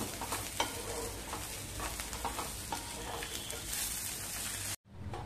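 Green chilli thecha ingredients roasting in a pan with scraping stirs over a soft, constant sizzle, a few louder scrapes standing out, and a sudden cut near the end.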